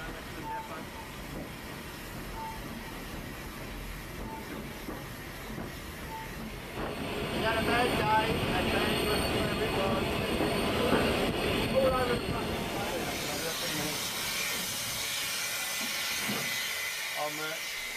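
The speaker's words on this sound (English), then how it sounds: "The Class 47 diesel is doing the work at the other end of the empty train." A train with a Class 47 diesel at one end and the steam locomotive King Edward I moves along the track, a steady rumble that swells louder midway with hissing and squealing wheels, while a narrator speaks over it.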